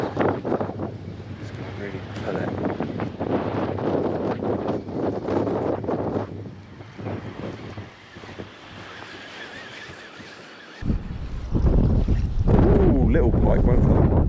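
Wind gusting over the River Kennet during pike fishing, a broad rushing buffet against the microphone that drops away briefly, then surges back loud near the end.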